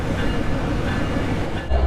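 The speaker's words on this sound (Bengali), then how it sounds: "তো আমাদের ট্রেনের লোকোমোটিভ কিন্তু চলে যাচ্ছে" A train locomotive pulls away along the tracks at a Bangladeshi station, a steady loud rail rumble with rattling wagons that dips briefly and then swells again at the end.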